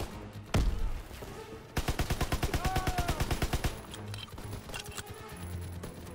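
A single heavy blast opens, then a rapid, evenly spaced machine-gun burst in Call of Duty: World War 2 rattles for about two seconds, followed by scattered softer shots in the distance.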